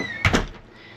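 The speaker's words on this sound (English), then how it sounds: "I have to undo the door." Door of a GoPro Hero 12 action camera being undone, a quick pair of close plastic clicks and snaps followed by quiet.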